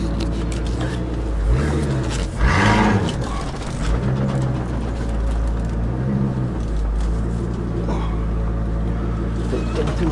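A modified Ford Excursion Eddie Bauer runs with a loud, steady low engine rumble and some rising revs, while people talk over it inside the vehicle.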